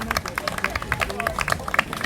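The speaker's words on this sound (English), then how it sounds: "give a rousing round of applause to Marcia Weeks and her team for another amazing march" Applause from a crowd at an outdoor march rally: dense, rapid clapping close by, with murmuring voices mixed in.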